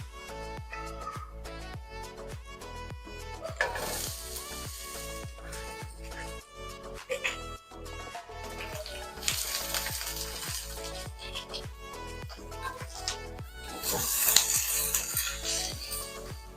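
Onions frying in a small amount of cooking oil for samosa filling, giving a steady, close sizzle with repeated stirring scrapes and bursts of louder crackle throughout.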